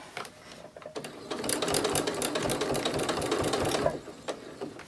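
A sewing machine stitches a short run through fabric scraps for a small keychain fob, its steady rapid needle chatter starting after a quiet pause and stopping near the end, close and clear.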